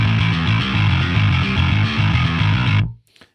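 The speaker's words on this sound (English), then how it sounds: "Let's solo the bass on its own." A distorted electric bass in E standard plays a steady metal riff alone, loud and close, then cuts off abruptly near the end.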